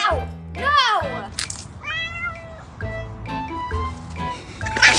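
A feisty kitten meows repeatedly in high, rising cries close to the microphone, mixed with people talking over and between the calls.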